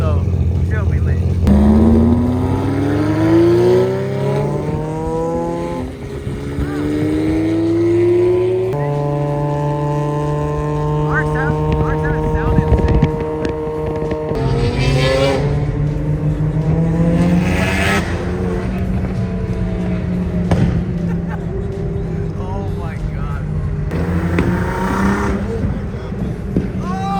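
A Veilside-kitted Mazda RX7, a Lamborghini and a Nissan GTR revving hard one after another, loud engine notes climbing and falling in repeated bursts with exhaust pops and crackles, close by, with people talking and shouting over the noise.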